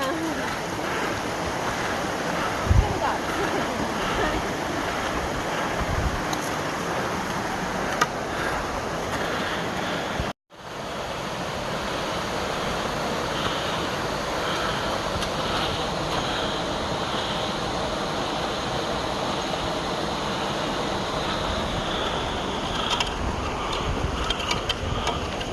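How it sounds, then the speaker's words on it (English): Ice House Canyon Creek rushing in a continuous broadband wash of flowing water, loud and close, with a brief dropout partway through. "this is Ice House Canyon Creek"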